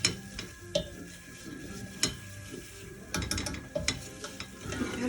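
Flour and butter are stirred together in a pot on the stove, making soft scraping and tapping clicks in an irregular rhythm over a faint sizzle, quiet and close with no voices.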